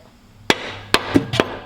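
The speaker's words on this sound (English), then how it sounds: "Just give it a couple of whacks." A hammer whacks a Racing Beat exhaust into place on a Mazda MX-5 Miata, with four sharp close metallic strikes in quick, uneven succession.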